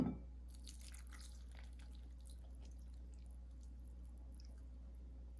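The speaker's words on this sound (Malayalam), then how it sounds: "ഇനി ഇതിലേക്ക് 1 കപ്പ് ഓറഞ്ച് ജ്യൂസ് ഒഴിക്കുകയാണ്" Orange juice poured onto a bowl of dried fruits for a non-alcoholic Christmas plum cake gives a faint, soft dripping and liquid trickle over a steady low background hum.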